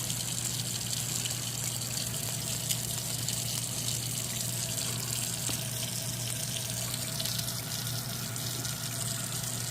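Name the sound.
running water wetting a makeup brush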